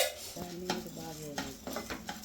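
Chana dal and urad dal frying in oil in a pan, with a soft sizzle under repeated scraping and clinking stirring strokes, close and moderate in level.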